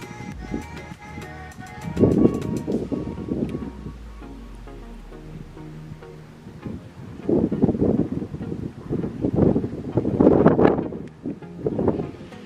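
Strong gusty wind during a Houston snow storm buffets the microphone in loud rushing surges, with faint voices in the background.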